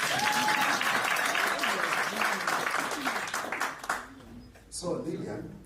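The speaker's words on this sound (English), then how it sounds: "Can you clap for me?" Audience applause at a live inaugural event, a dense wash of many hands clapping loudly for about four seconds, then thinning out with a brief lull before a smaller burst and scattered claps trail off.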